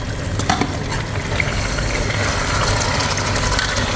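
Egg and tomato curry being gently stirred in a karahi, a continuous soft sizzle and scraping with low background hum, no voices.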